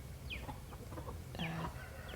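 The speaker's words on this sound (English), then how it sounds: "roosters and hens, their chickens." Village chickens, roosters and hens, cluck softly in scattered short calls at feeding time, with a few higher squawks, faint against a quiet outdoor background.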